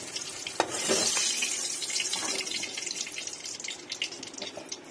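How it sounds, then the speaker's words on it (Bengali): Potatoes fry in oil with salt and turmeric, producing a moderate, busy crackle with small pops and occasional stirring scrapes, heard alone without talk. "একটু পরিমাণ মতন একটু লবণ আর পরিমাণ মতন একটু হলুদ দিয়ে আলুটাকে সুন্দর করে ভেজে নেব"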